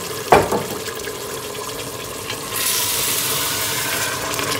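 Potatoes and brinjals with a little added water cooking over a low flame in a pan, giving a soft continuous sizzle and bubbling, with a brief clatter near the start and a slightly louder hiss later.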